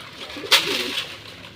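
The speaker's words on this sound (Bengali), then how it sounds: "এগুলো বাইরে কবুতরগুলোকে খাওয়া দিচ্ছে দেখেন সবগুলো কবুতর বাঘা" A silver Bagha pigeon gives a short, soft coo at close range while the birds are fed, a single brief call over a quiet background.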